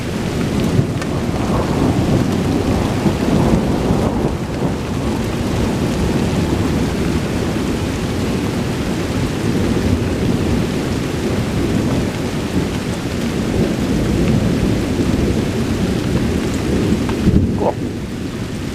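A Chicagoland thunderstorm in late February brings loud rolling thunder that rumbles on continuously over steady heavy rain, with no break in the roar.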